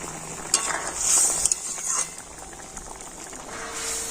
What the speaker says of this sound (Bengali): ঝোলটা ফুটে গিয়েছে, এবার আমি দিয়ে দিচ্ছি মাছ